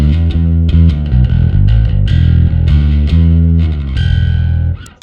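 Bass guitar runs through a Darkglass Microtubes X900 amp with the drive blend knob at noon, a loud, fizzy, dirty distorted riff of thick sustained notes played alone for about five seconds before cutting off.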